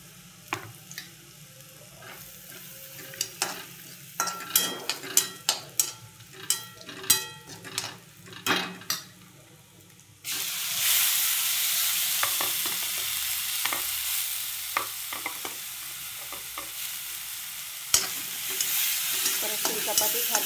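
Onion frying with turmeric and asafoetida, first a series of sharp spoon-on-pan scrapes and taps over quiet oil, then a sudden loud, hissing sizzle as the onion hits the pan, with occasional stirring knocks.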